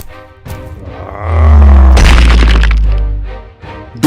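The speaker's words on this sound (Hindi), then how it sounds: "दोनों के बीच में फायरिंग शुरू हो जाती है।" Gunfire erupting between two rival groups in an animated detective story, heard as a loud booming crack that swells into a sustained roar, standing alone without speech.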